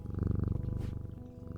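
A cat purrs in a video game set in catacombs, a close, rhythmic rumbling purr with regular pulses that ease off toward the end.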